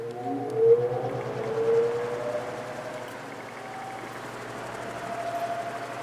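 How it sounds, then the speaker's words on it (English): Vintage Patton high velocity fan motor starting on low speed: a steady hum rises in pitch as the cool motor slowly spins up, a droning whine that climbs and steadies, heard alone at moderate level. "It just starts up kind of slow at first when the motor's cool."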